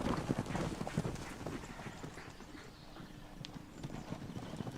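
Hooves of Konik horses in Poland clip-clop rapidly on the ground as they move at a quick pace, steady and fairly close, with rustling around them.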